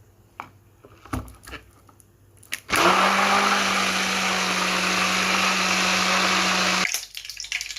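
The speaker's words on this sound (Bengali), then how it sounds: "এখানে সর্ষে, পেঁয়াজ, রসুন, কাঁচামরিচ, লবণ, তারপর এগুলো দিয়ে আমি ব্লেন্ড করে নিতে আসি।" Electric blender grinding a paste of mustard seeds, onion, garlic, green chili and salt, roaring loudly and steadily for about four seconds after a few clicks and knocks, then cutting off abruptly.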